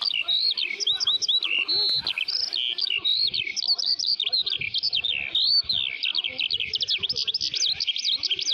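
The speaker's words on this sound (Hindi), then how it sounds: "पंछियों के उड़ जाने के बाद फिर वो तोता आया।" Cartoon birds, including a parrot, chirp and tweet continuously in bright, rapid warbling phrases that fill the whole stretch, loud and close with no pause.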